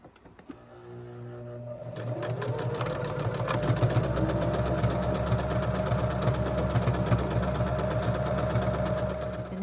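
A sewing machine runs steadily for nearly ten seconds stitching a straight seam up a hat, its motor hum and rapid needle chatter starting after a short pause and staying loud and close throughout.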